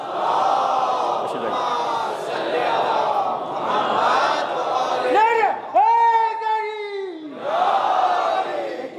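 A mosque congregation in Mumbai chants salawat on Muhammad and his family during a Muharram majlis: many voices recite in unison, loud and reverberant, in rising and falling waves with sustained drawn-out tones near the end.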